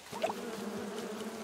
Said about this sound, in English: Let's mess around with the bees.